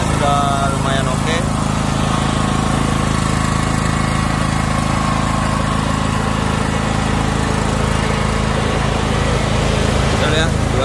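A 7 HP, 2800-watt gasoline generator drones steadily and loudly throughout, a constant mechanical hum with a buzzy edge, running nearby.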